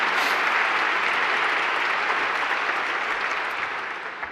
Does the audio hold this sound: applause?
yes